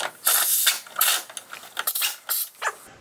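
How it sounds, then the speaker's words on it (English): A 3/8-inch impact wrench with an 18 mm wobble or 11/16 socket works on the upper ball joint of a modded C6 knuckle, giving several short, loud, rattling bursts separated by quieter gaps. "we're going to be using the 3/8 impact with the 18 mil wobbly or the 11/16, and we're going to do the upper ball joint"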